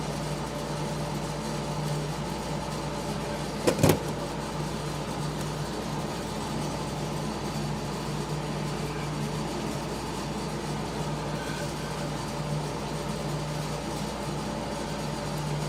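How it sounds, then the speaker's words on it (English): A steady, faint air conditioner hum runs through a hot, humid room for the whole stretch, with one brief sharp click near the start and no talk. "If you hear that humming in the background, that's my air conditioner"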